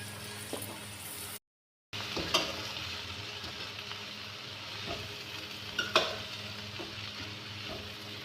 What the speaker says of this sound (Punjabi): ਹੁਣ ਆਪਾਂ ਪਾ ਲਾਂਗੇ ਪੱਤਾ ਗੋਭੀ ਇਹਦੇ 'ਚ